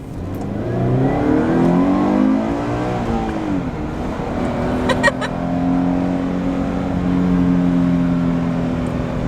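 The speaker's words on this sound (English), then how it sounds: "Once it turns green, I'm gonna go ahead and do a pull." A car with an aftermarket CSG Touring86 exhaust climbs through rising revs with a throaty exhaust, briefly drops, then drones steadily at a higher pitch, heard from inside the car.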